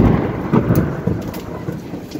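Heavy thunder rumbles close and loud during a hailstorm in Jalandhar, over a constant roar of hail and rain pelting the ground, with no voices.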